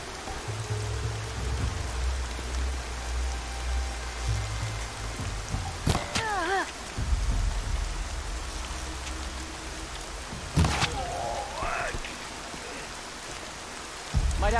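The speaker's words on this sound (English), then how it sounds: "Rain's not so bad." Steady rain falls in the video game Horizon Zero Dawn, a constant soft hiss with a low rumbling bed under it. A few brief, sharper game effects cut in partway through. No one talks.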